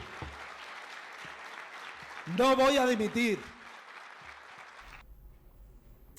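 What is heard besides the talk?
audience applause after speech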